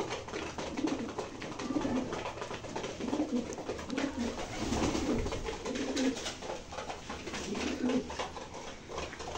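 Pigeons coo in soft, repeated rounds throughout a farm loft, several birds overlapping at a moderate distance over a low background hum, with no talking.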